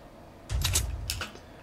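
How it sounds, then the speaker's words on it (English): Bolt-action sniper rifle reload from Fortnite: a short mechanical clack-and-slide, two quick metallic bursts close together, crisp and near, with no voices. "So I found this bolt action sniper rifle reload sound"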